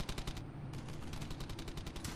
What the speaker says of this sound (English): He's suppressing fire!